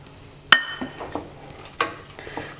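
Wheat flour and chopped walnuts being roasted in a pan for a halwa, with a sharp utensil clink followed by soft scraping and stirring strokes at an irregular pace.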